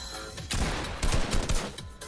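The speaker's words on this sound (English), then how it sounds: "Tag him again for my AR shot." Assault rifle fire in the Fortnite video game, a rapid string of sharp gunshots in quick bursts over busy game background noise, loud and up close.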